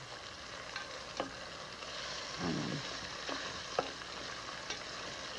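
Steady frying hiss from sausage in a pan with occasional stirring clatter and scrapes; a voice says a single short word partway through.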